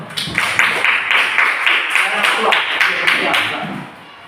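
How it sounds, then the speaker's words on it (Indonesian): A school class claps hands together in a classroom, a run of roughly rhythmic group claps fairly close and loud, fading out near the end, with voices mixed in. "Oke, tepuk tangan dulu."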